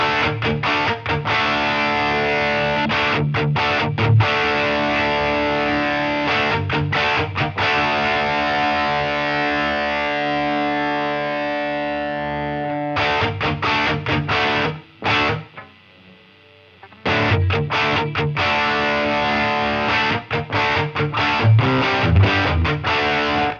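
Distorted electric guitar chords through an amp modeler with a tile reverb ring out with a roomy reverb tail, pausing briefly midway then resuming loud and sustained.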